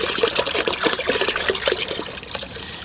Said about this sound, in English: All right, in goes my water now to complete the mixture.